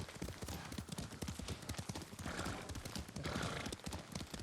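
Horse hooves clip-clop at a steady trot while riding in Ghost of Tsushima, a quick, even rhythm of close hoofbeats continuing throughout, fairly quiet, with a brief whinny mixed in.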